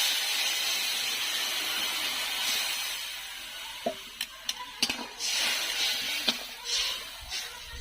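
Water is poured into a hot pan of dal, giving a soft sizzling hiss, followed by a few sharp clinks and scrapes of utensils near the end.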